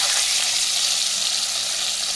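Steady, loud sizzling of spices frying in a pan with tomato, bay leaf, dried red chillies and panch phoron, a close continuous hiss with no talking.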